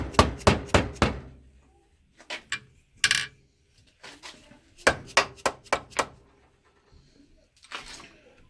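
A hammer taps on a motorcycle engine case near the kickstarter, sharp metallic knocks landing in quick bursts of three to five strikes with short pauses between, close and loud.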